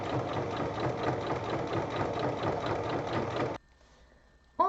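A sewing machine stitches a fabric seam on a small bag, a fast, even mechanical chatter at moderate volume that stops abruptly, followed by near silence and a short final knock.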